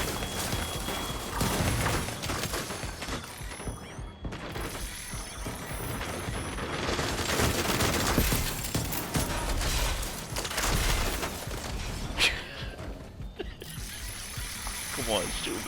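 Enemy gunfire pelts a Deflector shield in the video game The Division 2, a continuous dense mechanical rattle of rapid impacts that hardly lets up, loud and close throughout.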